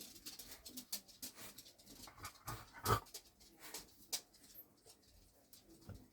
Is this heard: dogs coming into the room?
yes